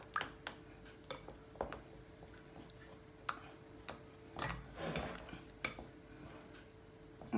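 A utensil stirs melted chocolate and butter in a bowl, giving light, irregular clinks and taps against the dish with soft scraping between them.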